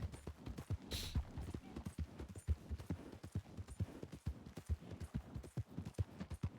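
An Arabian horse in a Western role-play video game clip-clops along at a steady trotting rhythm, hoofbeats close and fairly quiet, repeating evenly throughout.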